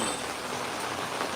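Rain falling at the top of a mountain pass, a steady, even hiss of drops on surfaces throughout, moderately loud with no voices.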